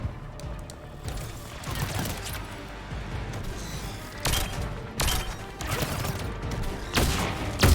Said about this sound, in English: That's firing out miniature rocket, basically miniature mines that explode after time.